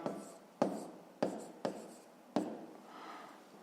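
Pen strokes during a fifth-grade math exercise: several separate bursts of scratchy writing on paper, each starting sharply and trailing off, close and alone, with a softer stretch near the end.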